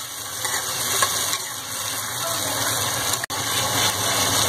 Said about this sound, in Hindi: तो अब हम इसको भून लेंगे टमाटर के सॉफ्ट होने तक ऐसे चलाते हुए